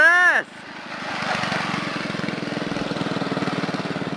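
A Baja dirt bug with a Briggs & Stratton 2hp engine buzzes nearby, a small single-cylinder engine with a rapid pulsing rasp that follows a brief shout at the start.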